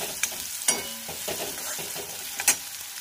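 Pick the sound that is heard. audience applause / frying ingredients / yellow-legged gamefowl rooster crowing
frying ingredients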